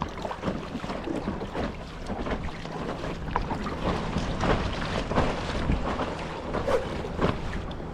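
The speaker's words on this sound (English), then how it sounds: "Oh look, speedboat wake." A speedboat's wake rolls against an inflatable kayak on Lake Windermere, giving a continuous rushing slosh of water with wind buffeting the microphone throughout, steady and fairly loud.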